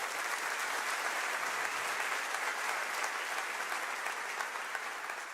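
Steady applause from a church congregation fills the room, dense and even throughout, with no voices standing out above the clapping.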